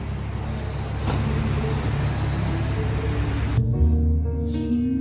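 Steady low road rumble and tire noise inside a Mercedes-Benz C43 while driving, a continuous broadband hum with no talking.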